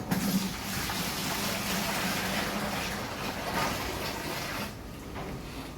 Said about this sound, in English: Now we're going to add 5 liters of water to this, sanitize everything.